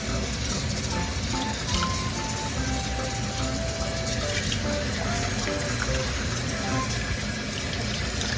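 Running water rinsing a guinea pig in its bath, a loud steady splashing stream from a spout that continues without pause, close up.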